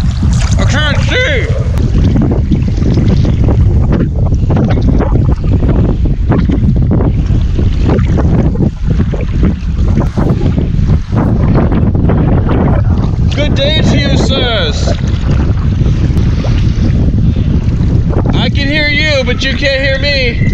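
Strong wind roars across open water during a cold fall wilderness trip, heavily buffeting the microphone throughout, while a voice speaks faintly beneath the gusts and some higher tonal whistles rise toward the end.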